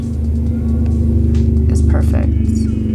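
Road traffic outside an indoor room gives a constant low rumble and hum that runs under the whole stretch at a steady level, with faint passing-vehicle texture.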